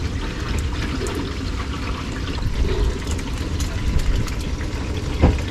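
Water leaking from a crack in an RV gray tank, a steady rushing trickle and splash that carries on without pause, close and fairly loud, with faint voices now and then.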